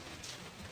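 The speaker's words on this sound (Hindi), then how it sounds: "बारिश बहुत तेज हो रही है" Heavy rain pours down outdoors in a village during a monsoon day, a dense, steady hiss of falling water filling the whole moment with no break.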